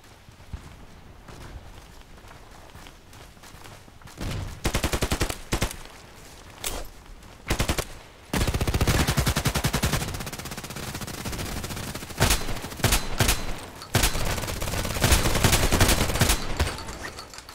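Gunfire in the online shooter Contract Wars, with a Glock pistol among the weapons: bursts of rapid shots and fusillades come in clusters, loud and close, alongside footstep-like clatter and no talk.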